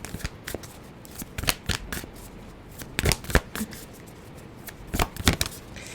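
Oracle cards being shuffled by hand, a sequence of crisp riffling bursts and sharp flicks spread irregularly over several seconds, close and fairly quiet with no talking.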